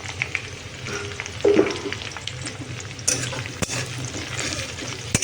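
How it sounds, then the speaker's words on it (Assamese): Onion with cardamom, cinnamon and cloves sizzles in a pan ahead of cooking meat, a steady close frying crackle with stirring scrapes and a few louder clinks of utensil against pan. "মাংসখিনি বনাবৰ কাৰণে এটা পিঁয়াজ এনেকৈ অকণমান ভাজি লৈছোঁ আৰু ইয়াতে কেইটামান ইলাইচি,"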